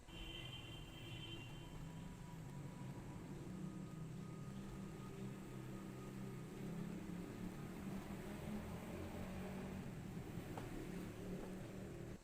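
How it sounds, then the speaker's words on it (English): Traffic roars outside a window, a steady, unbroken low rumble that fills the whole stretch at an even level with no voices. "traffic is heard roaring out the window"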